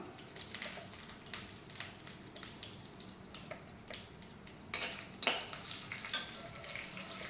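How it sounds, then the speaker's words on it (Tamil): Fennel seeds and dried red chillies frying in hot oil for a Tamil vazhakai kola urundai masala, a steady low sizzle with scattered sharper crackles and a few utensil clinks and stirring scrapes, close by and without talking. "ஆயில் நல்லா சூடாகிடுச்சு. இந்த டைமில் நம்ம பெருஞ்சீரகம் போட்டுக்கலாம்."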